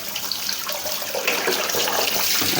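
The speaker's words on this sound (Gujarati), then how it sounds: "નળ આવી ગયા એટલે હું ભરું છું પાણી" Water runs steadily from a household tap into a container being filled, a continuous broadband gush of pouring water that holds even and fairly loud throughout, with no talking.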